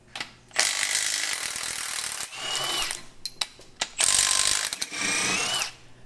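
A ratchet wrench loosens the dog bone mount bolts on an MQB-platform car, with loud, close bursts of rapid clicking separated by brief pauses and small metallic knocks.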